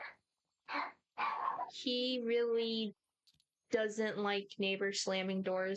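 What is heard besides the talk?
dog barking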